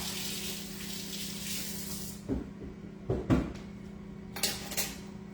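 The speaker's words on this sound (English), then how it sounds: "Let me rinse this out, since I used it" Water runs steadily from a kitchen tap for about two seconds as a measuring tablespoon is rinsed, then stops, followed by a few light clinks and knocks of the spoon and dishes nearby.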